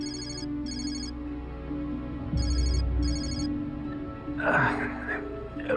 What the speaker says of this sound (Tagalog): Ring ng ring lang yung cellphone niya eh.